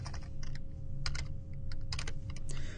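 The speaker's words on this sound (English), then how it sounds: "I'm going to come back here and type in my route again." Quick, steady typing on a computer keyboard, entering a route value during programming work, with dense close-up key clacks following each other without pause.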